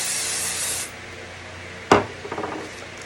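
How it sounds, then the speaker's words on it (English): A spray bottle gives one short, sharp spritz beside a sublimation setup, followed by a few faint taps and rubs; before it, a steady hiss fades out. "This time I'm going to also try using the spray and see what happens."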